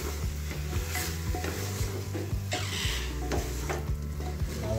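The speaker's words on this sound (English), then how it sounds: "This will saute for 3 to 4 minutes." Garlic paste and onions sauté in a pan for mutton curry, a steady close sizzle with stirring scrapes and occasional spoon knocks against the pan throughout.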